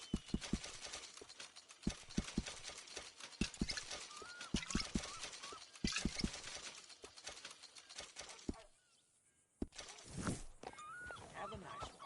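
Horse hooves clip-clop in the video game Red Dead Redemption 2, with soft irregular hoofbeats near a stable amid ambient game sounds, a short quiet gap, and bits of character chatter.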